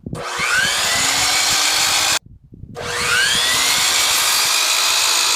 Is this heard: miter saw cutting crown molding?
yes